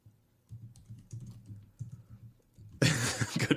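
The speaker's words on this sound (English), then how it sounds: "You hear me typing?" Clicky keystrokes on a computer keyboard arrive in a few scattered bursts at close range, then a loud rustle or knock takes over near the end; no one speaks.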